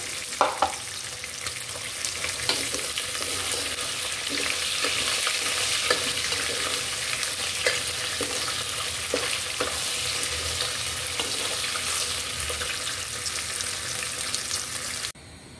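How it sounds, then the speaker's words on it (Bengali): Jackfruit seeds and potatoes are lightly fried in a pan, with a steady sizzle and scattered stirring scrapes at close range. No one speaks. "হালকা ভাজবো, বেশি না।"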